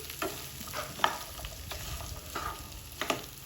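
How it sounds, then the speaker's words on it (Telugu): Pumpkin curry stirred in a pan, with scattered scraping clinks of a spoon against the pan over a faint sizzle, quiet and close with no talking. "ఒకసారి మంచిగా కలిపి"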